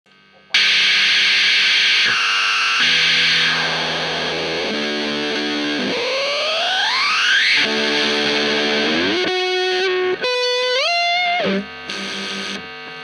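An electric guitar runs through a ZVEX Fuzz Factory fuzz pedal with the stability control near full, giving thick buzzing chords, rising pitch-sweeping squeals and sputtering gated notes, loud and close.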